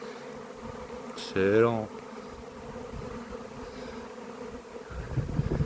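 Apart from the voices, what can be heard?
honeybee swarm arriving at garden hives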